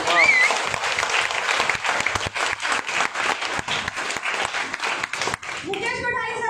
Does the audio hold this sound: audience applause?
yes